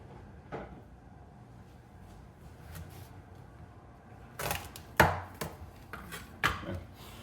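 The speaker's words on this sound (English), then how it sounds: "And I'm going to cut it in half right down the middle." A kitchen knife slices down through a seedy vegetable on a cutting board, giving a few sharp, close thuds and knocks after a quiet stretch, with the loudest hits bunched toward the end.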